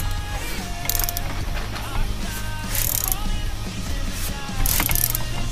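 Ratchet wrench with a socket tightening the steering wheel nut on a Renault Super 5, giving a continuous clicking and grinding mechanical rattle up close, with no talk.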